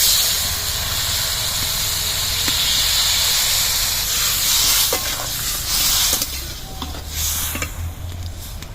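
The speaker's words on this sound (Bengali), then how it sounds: "জল দিয়ে দিচ্ছি।" Water poured into a hot pan of poppy-seed curry with potol, hissing and sizzling steadily at close range, with a broad steamy hiss that swells and flickers throughout, no talking.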